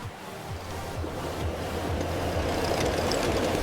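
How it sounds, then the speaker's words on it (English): An HO scale model train pulls out across a miniature construction site, a steady rolling rumble with repeated low rhythmic clicks building slightly in loudness, continuous and close with no talking. "Train's moving out."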